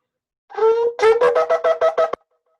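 A shofar sounds one short held note and then the teruah call, a quick run of about seven sharp staccato blasts, loud and close, ending abruptly.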